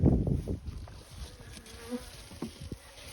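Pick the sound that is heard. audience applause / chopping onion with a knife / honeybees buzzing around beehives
honeybees buzzing around beehives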